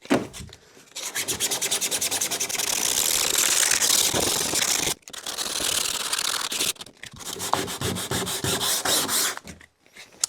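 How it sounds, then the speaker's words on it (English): Steady, close scraping of sandpaper rubbed by hand on a boat hull, in long continuous strokes with a few brief pauses. "That was maybe 60 seconds worth of sanding."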